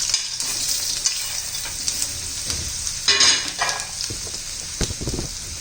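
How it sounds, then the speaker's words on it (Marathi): Potato slices shallow frying in oil in a pan just after a mustard-seed tempering, giving a steady close sizzle with occasional stirring scrapes and brief louder bursts. "बटाटा चांगला पण तेलामध्ये शालो फ्राय करून घ्यायचा शिजून घ्यायचा"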